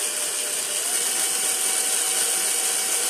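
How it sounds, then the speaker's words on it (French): A power drill whines steadily and loudly at close range while trimming a plastic watering ball, with a dense, even hiss and no break. "on remet la perceuse en route"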